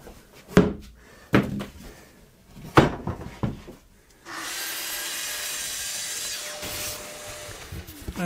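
A wooden cabinet door's leading edge is trimmed: a few sharp wooden knocks and scrapes, then a loud, steady power-tool cutting noise running continuously to the end.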